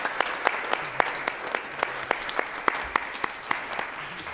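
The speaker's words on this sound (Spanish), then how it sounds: "para el cual pido un gran aplauso, por favor." Sparse, rhythmic clapping from a small group at a church service, applauding the choir, each sharp clap distinct and evenly spaced, moderately close, with no talking.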